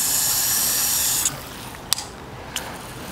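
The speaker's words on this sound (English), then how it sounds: "Shower, great for plants." Water spraying from a Giraffe Tools AW40 retractable garden hose reel nozzle on its shower setting, a steady close hiss that stops, followed by a few brief clicks as the nozzle is adjusted.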